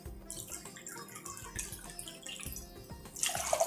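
Water pours into a vessel of powdered jaggery, a soft splashing trickle that grows louder and fuller toward the end.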